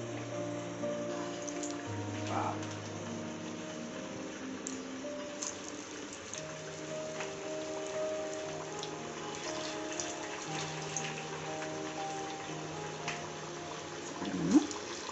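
Garelu, lentil vadas, fry in hot oil with a steady, hissing bubbling that holds near and even throughout, with a brief louder pop close to the end.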